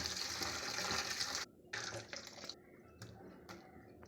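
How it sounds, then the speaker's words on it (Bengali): Soybean chunks being washed in water that is changed two or three times: quiet splashing and running water at first, then a few short, separate sloshes, with no speech. "এভাবে দু তিনবার জল বদলে সয়াবিনগুলো ভালো করে ধুয়ে নেব"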